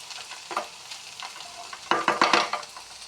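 A pan of fish, prawns and drumstick greens is stirred as it fries, with a spoon scraping and knocking in short bursts over a soft sizzle, close and unaccompanied by talk.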